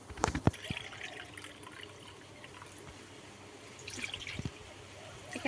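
Water is poured from bowls into a wok while a milk sweet is being made, a faint trickling splash. A couple of soft clunks from the bowls open the sound.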